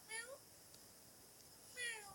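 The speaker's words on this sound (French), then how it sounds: "Il fait des miaou comme ça." A cat gives two faint, high meows about a second and a half apart, heard in a quiet indoor room.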